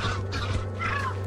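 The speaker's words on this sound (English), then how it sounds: "I've just been mugged by a bunch of birds." Birds squawking in the video game Lethal Company, a dense cluster of harsh honking, goose-like calls layered together under a steady low hum, continuous and fairly loud with no talking.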